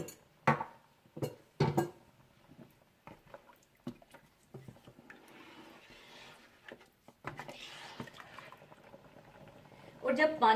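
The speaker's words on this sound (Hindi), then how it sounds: "जब पानी में बॉईल आ जाए तो इसमें भीगे हुए चावलों का पानी निकालकर चावल डाल दीजिएगा" Water heats in a cooking pot for kabsa rice, with some sharp knocks and clatters of utensils early on, then a soft bubbling hiss that swells toward the end, close and fairly quiet.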